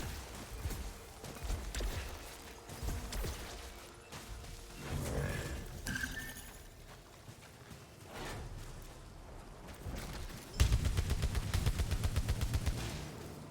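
Gunfire in the Returnal video game crackles in scattered shots amid sci-fi effects, then a loud rapid burst of automatic fire hammers out near the end, fairly close.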